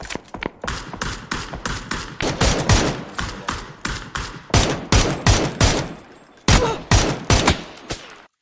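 Gunfire rings out in a first-person shooter match, rapid bursts of loud close shots in quick rhythmic volleys with brief pauses between strings, no talk over them.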